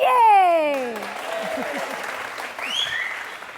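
A studio audience at a televised courtroom-style interview show claps in a dense, sustained burst of applause, with a brief rising musical sting at the start, fading slightly toward the end.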